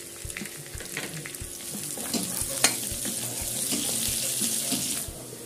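Ginger paste and chopped green chilies sizzle and crackle in a pan, with scraping stirs and clinks of a spoon against the metal, steady and close, no voices.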